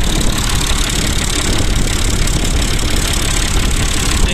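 A Massey Ferguson 240 tractor engine idles loud and close while warming up in freezing weather, a steady rough diesel chug with a slight knock throughout.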